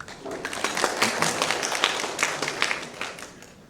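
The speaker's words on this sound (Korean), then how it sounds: "한 분 한 분 소개해 드릴 때마다 큰 박수 부탁드립니다." An audience at a Korean industrial safety seminar applauds a guest introduction, giving a few seconds of steady, moderately loud clapping in an indoor hall.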